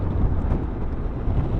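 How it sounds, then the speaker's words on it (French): Strong wind buffets a rider on a Honda Forza 750 maxi-scooter at about 130 km/h, a loud, steady rush with no talking. "Et il y a énormément de vent."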